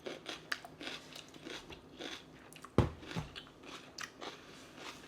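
A mini bell pepper filled with cream cheese is bitten with one sharp, crisp crunch, followed by close, quieter crunchy chewing in a quiet room.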